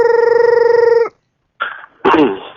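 A telephone ringer sounds in a steady buzzing tone for about a second, then stops before a line pickup and a voice on the call; close and fairly loud.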